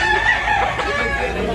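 A rooster crows loudly and steadily at a busy poultry market in Tabunok, Cebu, the strained, drawn-out call filling the moment with other birds and market noise behind it.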